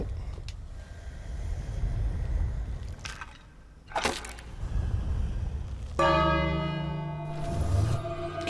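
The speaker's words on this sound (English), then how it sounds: "Now ring the bell." A bell rings in the King's Quest video game, with resonant tolling strikes and long ringing overtones over a steady background ambience.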